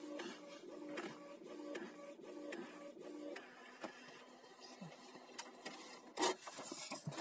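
A Canon MG2540S inkjet printer runs with rhythmic mechanical chattering and buzzing as the print head shuttles back and forth, fairly quiet and close, ending with a few clunks.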